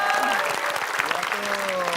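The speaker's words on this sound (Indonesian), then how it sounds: "Nih, tepuk tangan buat Bang Jelani ya." Studio audience on a television game show breaks into dense, steady applause that fills the whole stretch, with voices calling out over the clapping.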